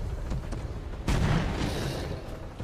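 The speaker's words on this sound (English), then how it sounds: "Explosion, please explode at the avatar." Explosion in the XCOM 2 video game, a single loud blast that bursts in about a second in and rolls off over the following seconds against steady background game noise.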